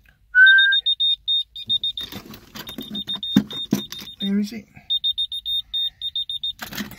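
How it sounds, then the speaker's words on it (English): A 1970s whistle-activated key finder answers a whistle with rapid bursts of high, thin electronic beeps that repeat on and off for several seconds, with a person talking between them. "if you whistle or it picks up a high sound, it finds your keys for you."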